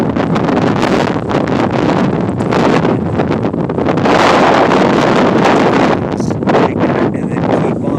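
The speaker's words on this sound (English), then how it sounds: "It's getting kind of windy." Strong desert wind near Las Vegas gusts and roars across an open rockhounding site, buffeting the microphone in loud, rough surges that swell and ease over several seconds.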